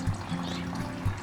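Water mixed with liquid fertilizer pours steadily into a tomato plant pot, a soft close trickle and splash with brief louder gurgles at the start and end.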